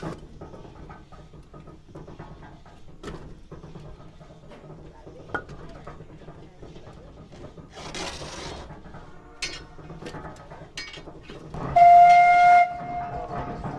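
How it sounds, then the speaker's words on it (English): A wood-fired steam donkey engine chugs and hisses with clanking mechanical bursts, ending in a loud, steady whistle blast near the end. "this steam engine operates essentially by a wood fire boiling a steep kettle full of water, creating steam"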